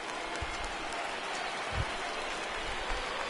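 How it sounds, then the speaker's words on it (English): Steady rain falls in the MLB The Show 19 baseball video game, a dense, even hiss of drops filling the ballpark, with a few soft low thumps and a faint crowd murmur beneath. "There is rain in the area"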